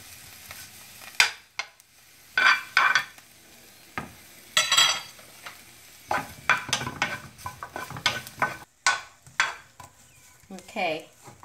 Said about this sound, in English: continue to roast pepper, the garlic,